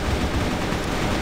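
Dense, continuous gunfire from the first-person shooter CrossFire, a steady rattle of rapid shots filling the whole short stretch with no talk over it.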